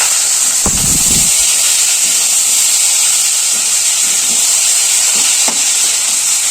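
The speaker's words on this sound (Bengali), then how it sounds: "এবার আমি পেঁপেটা সেদ্ধ করে রেখেছিলাম সেটা দিয়ে দিলাম" Boiled papaya hits a hot pan of oil with black cumin, setting off a loud, constant hiss and sizzle, with a few dull thumps and scrapes of the pieces being stirred near the start and again later.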